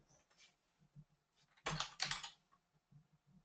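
Keys tap on a computer keyboard: a few scattered light clicks, then a quick dense burst of typing in the middle, then a few more sparse taps, close and fairly quiet.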